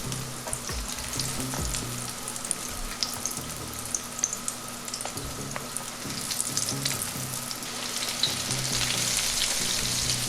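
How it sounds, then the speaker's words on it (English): Battered asparagus spears fry in hot grease at 350 degrees, giving a steady, close bubbling sizzle with scattered crackles and pops that swells slightly as more pieces go into the pan. "let's get them in this hot grease"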